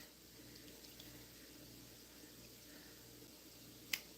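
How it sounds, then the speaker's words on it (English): Tap water runs steadily in a home kitchen as a kettle is filled, a soft continuous hiss at moderate distance, ending with a brief sharp clink near the end; no one speaks. "Oh, I got to put the kettle on for the more water."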